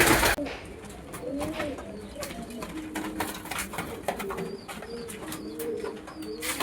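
Feather-footed lotan pigeons coo in a loft, soft repeated throaty coos close by over a steady background, with a few chirps and faint speech.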